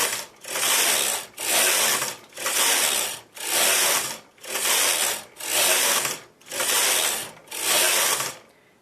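Carriage of a knitting machine swept back and forth across the needle bed while working fern lace, eight even rattling passes with brief pauses between, close and loud.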